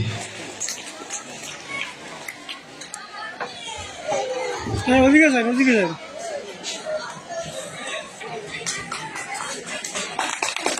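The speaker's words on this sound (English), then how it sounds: "Please give an energetic round of applause." Scattered clapping from an audience at a school annual function and farewell ceremony, mixed with children's chatter and crowd noise, with a brief louder burst of cheering voices in the middle.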